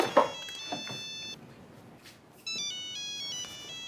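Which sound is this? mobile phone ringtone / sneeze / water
mobile phone ringtone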